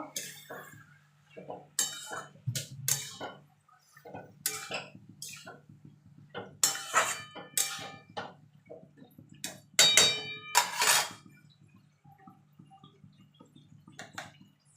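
Boiled, drained taro greens are stirred with spices in a pan, giving intermittent metal scraping and clinking of a utensil against the cookware in separated bursts with quiet gaps, a low steady hum underneath.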